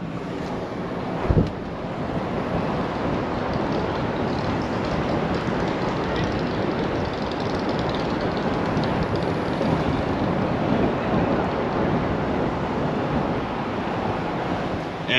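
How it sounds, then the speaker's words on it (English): Steady, loud roar of Niagara Falls on a misty day, heard on the Canadian side from a passing vehicle: a continuous broadband rush with one brief thump near the start. "this is basically right beside the falls"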